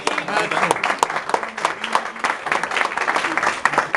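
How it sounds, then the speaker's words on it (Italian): An audience at a certificate ceremony at Grand Hotel Terme in Montegrotto breaks into loud, dense clapping that carries steadily through the whole stretch, with voices mixed into the crowd noise. "Un applauso."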